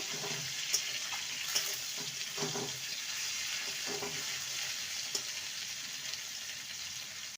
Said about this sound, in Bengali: হাই ফ্লেমে রেখে ফুলকপিগুলোকে ভেজে নেব